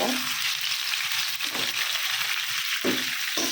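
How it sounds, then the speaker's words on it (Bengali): Bitter gourd (karela) pieces fry in a pan, giving a loud, steady, close sizzle with a couple of brief scraping stirs. "এখন এই যে করলাগুলো আগে ভেজে নেব"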